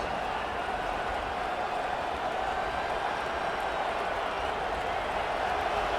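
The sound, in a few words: stadium crowd cheering at a football game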